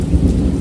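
A summer thunderstorm with heavy rain: a brief, loud low thunder rumble over a dense, steady hiss of downpour, no voices.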